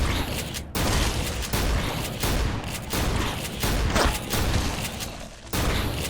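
Combat shotgun firing in the Techguns game mod, a series of loud, heavy blasts spaced roughly half a second to a second apart, each followed by a brief mechanical clack.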